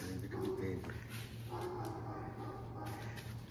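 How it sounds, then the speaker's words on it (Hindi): Dogs in a home vlog give soft whimpers and short yips close by, over steady background noise with a voice murmuring now and then. "तीन कुत्ते एक फ्रेम में, देखो भाई तीन कुत्ते एक फ्रेम में।"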